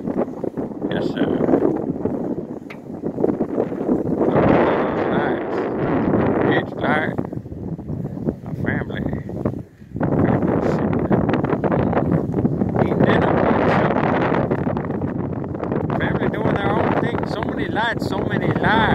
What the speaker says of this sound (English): I thought it was pretty windy, but this takes the windy cake.